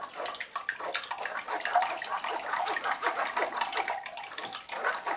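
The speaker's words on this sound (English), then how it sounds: "we're gonna run it through our strainer" Detox drink pours through a strainer in a continuous splashing, trickling stream, close and steady for several seconds with no talking.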